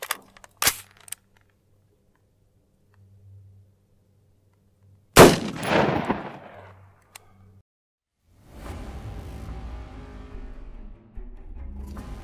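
A single sharp gunshot from a 10.5-inch 1-in-7 twist AR-15 firing Hornady 75gr BTHP rounds, loud and close with a decaying ring, set among a few smaller clanks and a later stretch of outdoor rumble.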